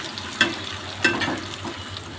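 Chopped onions fry in a pan for an egg roll filling, giving a steady soft sizzle with two sharp scrapes of a spoon stirring them, close and unaccompanied by voices.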